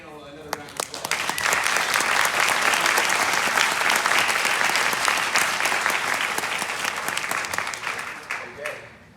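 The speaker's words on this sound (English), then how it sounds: "let's give our panel another round of applause" A panel audience breaks into a full round of dense, steady applause that swells quickly, holds for several seconds and then tapers off, with a brief voice at the very start.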